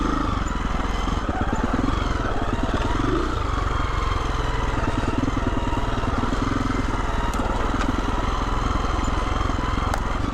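Husqvarna motorcycle ridden on a trail on a cold day, its engine droning loud and steady throughout with a constant buzzing rumble and slight shifts in pitch, close-miked with no talking.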